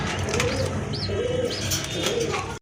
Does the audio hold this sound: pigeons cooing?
yes